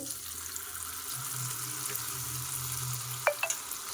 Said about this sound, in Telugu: సో ఆయిల్లో అయితే ఫ్రెంచ్ ఫ్రైస్ వేసేసుకుందామండి